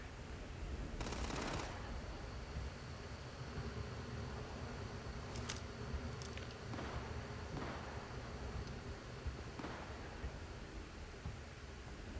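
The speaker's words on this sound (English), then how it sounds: "It sounds like some heavy-duty gunfire up here." Several bursts of gunfire in the video game Starfield ring out over a steady hiss, a loud close volley early on followed by sharper, fainter shots scattered through the rest.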